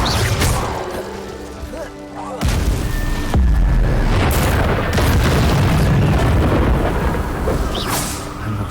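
An Incendio fire spell cast in Hogwarts Legacy bursts out as a series of loud booming, crashing blasts, with a sharp impact and a rumbling fiery roar that lingers afterward.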